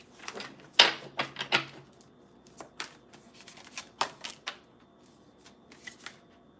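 Tarot cards being shuffled in quick riffling bursts, one loud flurry early on followed by lighter, scattered snaps and slides, fairly close.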